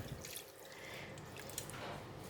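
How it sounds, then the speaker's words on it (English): Water is poured into a pot of braised beef noodle soup, a faint, steady splashing trickle with scattered drips, heard alone. "I'm just going to add in a little bit more water,"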